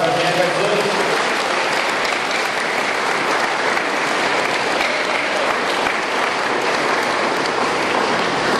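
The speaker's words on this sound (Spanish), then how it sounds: "la recibimos con fuerza aplausos al Señor Jesús" A church congregation claps loudly and steadily for a women's choir of sisters at a Sunday fasting campaign service, a dense, continuous wall of applause filling the room with no pauses.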